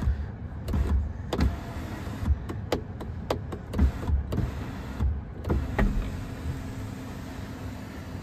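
The one-touch electric sunroof of a Mahindra XUV400 EV opens with a steady motor whir inside the cabin, punctuated by repeated clicks and a soft thud near the end.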